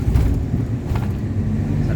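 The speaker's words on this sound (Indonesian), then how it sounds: "Kita berpapasan dengan mobil ke Makassar." A car passes on the climbing Camba mountain road toward Makassar at night, a low, close rumble of engine and tyres under a person talking.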